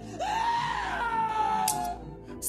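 A man screams hysterically during a game of Russian roulette in an action film, one long, loud, wavering wail that rises and then slowly sags before cutting off.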